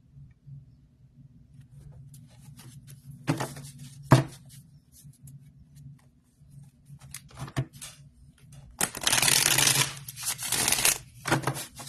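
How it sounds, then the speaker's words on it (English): A deck of divination cards is shuffled in a few brisk bursts of papery riffling and patter, with a longer, louder flurry near the end over a quiet background hum and no speech. "Oh, that was a nice smooth shuffle."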